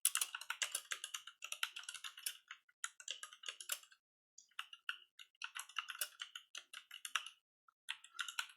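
Fingers tapping on a computer keyboard while entering text, quick irregular clicking keystrokes in bursts with brief pauses, close and quiet, no voices.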